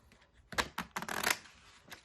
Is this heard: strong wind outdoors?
no